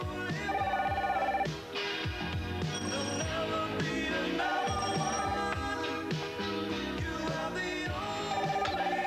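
A telephone rings in repeated bursts indoors in a French film scene, its tones set against a busy musical score that runs throughout.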